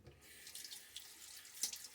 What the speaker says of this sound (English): Splash a little bit more water on my face.